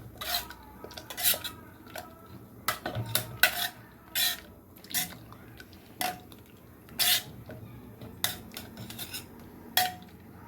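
Cooked drumstick (moringa pod) soup stirred in a metal pot, with repeated clinks and scrapes of a spoon against the sides in an irregular rhythm, close up, with no talking.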